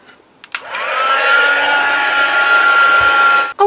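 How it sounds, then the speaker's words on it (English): A heat gun clicks on and blows a steady, loud whooshing roar with a faint whine while drying a first layer of paint on a mixed media journal tag, then switches off with a click. "I'm just going to put on my heat gun and I'm just going to dry this first layer off"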